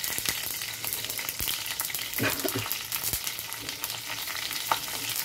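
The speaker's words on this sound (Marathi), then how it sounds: "कढीपत्ता विसरायचा नाही टाकायला. मिरच्या टाकते." Green chilies and curry leaves frying in hot oil for a quick breakfast dish give a steady, close crackling sizzle, with a few sharper pops and stirring taps scattered through.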